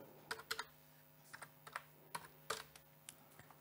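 Someone types a chart title into an OpenOffice Calc spreadsheet on a computer keyboard, a quiet, uneven string of close key clicks in short bursts with small gaps between them, with no talking.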